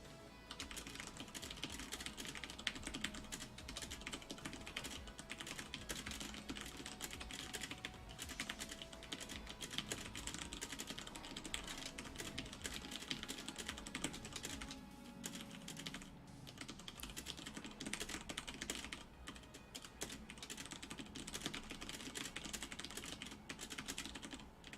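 Fast continuous typing on a computer keyboard during a typing test, a dense unbroken stream of keystrokes at moderate level for the whole stretch, with a faint background hum and no talking.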